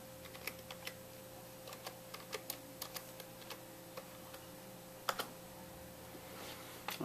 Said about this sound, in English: Let me punch up Saturn, type in Saturn.